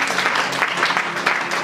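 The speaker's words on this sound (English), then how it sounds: "Let's clap our hand for Jesus." A church congregation claps hands together during a Sunday service, brisk and loud, with a crowd murmur mixed in over a short burst.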